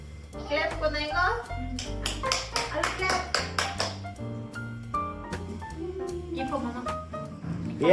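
Family members clap in rhythm at a Goan home birthday celebration for mama, quick sharp hand claps repeating steadily through the moment alongside voices and singing, fairly close and clear.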